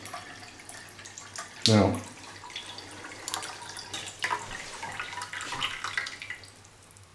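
A Grohe EuroSmart basin tap runs at low pressure of 0.2 bar, a steady hissing flow into a sink after a sharp knock, with a voice speaking briefly over it.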